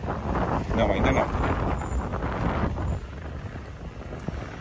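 Wind rushing through apartment building corridors in Balneário Camboriú, a loud buffeting roar against the microphone that eases slightly toward the end.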